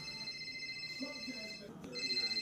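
A phone rings with a steady electronic tone held under a cartoonish voice talking.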